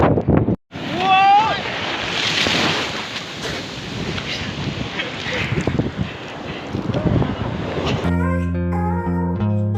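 Sea waves roll in at Fraserganj beach at low tide on a rainy day, heard as a loud, steady roar of surf mixed with heavy wind buffeting. The wash fades into music near the end.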